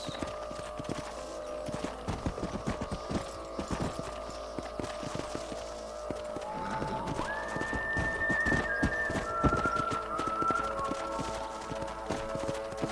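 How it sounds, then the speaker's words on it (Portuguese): Horses' hooves clip-clop steadily throughout a Red Dead Redemption video game scene, a dense rhythmic clatter of several animals moving together, with faint tonal game sounds rising partway through. "Olha pros cavalos."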